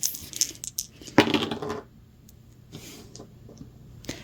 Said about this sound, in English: Okay, roll number 10.